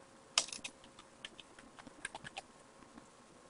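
A command typed on a computer keyboard: scattered light key clicks, one sharper tap at the start, then irregular quiet presses, close and soft with no speech.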